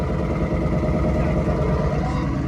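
A 2019 twin-turbo Mustang with a full Corsa active exhaust idles close by, a steady, dense low rumble with a slightly uneven burble and no revving.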